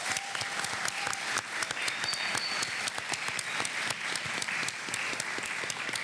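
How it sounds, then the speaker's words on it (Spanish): A church audience gives a dense, sustained round of applause welcoming a pastor, many hands clapping steadily at even loudness from start to finish with no talk over it. "pedimos que le brinden un fuerte aplauso"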